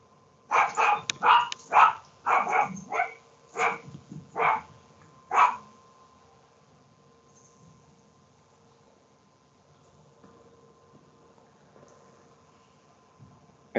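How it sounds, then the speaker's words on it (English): Dog barking frantically in the background, a rapid volley of about ten barks over the first few seconds, then quiet room tone. "your dog is going like completely bonkers in the background"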